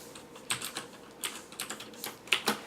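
Keys clatter on a computer keyboard in quick irregular bursts of light clicks, close and fairly quiet against a soft room hiss.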